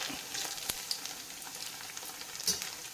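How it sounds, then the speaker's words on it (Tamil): Leftover idli pieces deep frying in hot oil until browned, a soft continuous bubbling sizzle with a few faint clicks and taps, fairly quiet and without speech. "நல்ல சூடாக இருக்கணும் எண்ணெய் அந்த மாதிரி இருக்கும்போது தான் போடணும் ப்ரௌனாக வர்ற அளவுக்கு போச்சிக்கிறோம்"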